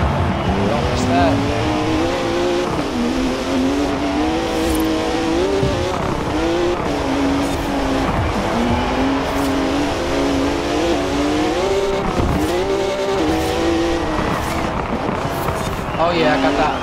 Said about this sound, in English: we drifted it in the BMW